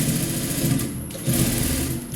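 A sewing machine stitches along the edge of a lining for a layered gathered maxi dress, a loud, close, continuous mechanical whir with a slight change in pace midway.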